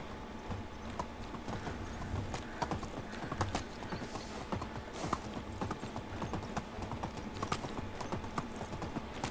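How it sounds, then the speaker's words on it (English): Donkey hooves clip-clop in a steady, rapid rhythm over ground while riding in the medieval survival game Medieval Dynasty, with faint mechanical creaks and a low ambient bed beneath. "ride out on donkey."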